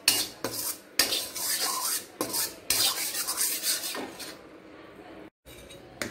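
A metal spoon scrapes roasted flour from a hot pan into another vessel in a home kitchen: loud repeated scraping and clanking strokes in irregular bursts, ending with a few lighter taps.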